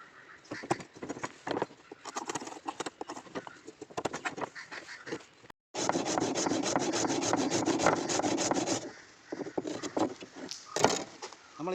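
Hand saw cutting through wood along a marked half-inch line for a furniture leg joint, with quick rasping back-and-forth strokes, irregular at first and then steady and dense, close by.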